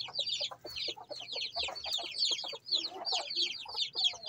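Chickens in a screen-walled coop cluck continuously in a busy overlapping chorus, close by, with no talking.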